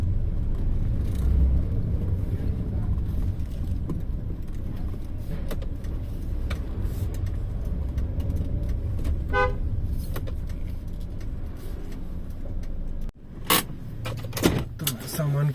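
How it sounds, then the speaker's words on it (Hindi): Heavy traffic on a congested road rumbles continuously, with car horns tooting several times in short bursts, loudest near the end after a brief dip in the noise. "तो ये जो रोड है इसमें बहुत ज़्यादा ट्रैफिक रहता है।"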